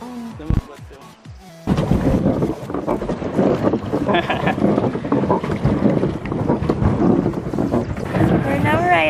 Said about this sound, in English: We're now riding the paddle boat. We're paddling the boat.